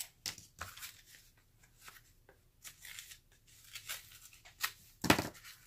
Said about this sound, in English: let's get the scissors out